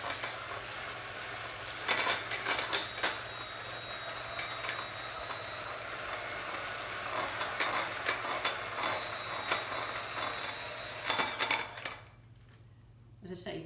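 An electric mixer whisks scone mixture until frothy, running as a steady whirring drone with rattles and clatter, then cuts out abruptly near the end, leaving a quieter room.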